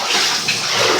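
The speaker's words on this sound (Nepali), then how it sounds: "राम्ररी नुहाउने राम्ररी सावर गर्नु" Shower water sprays steadily during a shampoo bath, a close, continuous hiss of falling water with slight splashing variations.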